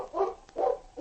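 Yukon King, a radio-drama dog, barks twice loudly and close up, two strong woofs with a brief gap and the start of a third, with no talking.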